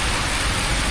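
Heavy rain pouring down in Durres, Albania, a loud continuous hiss of dense drops striking the ground and surfaces, steady and close with no voices.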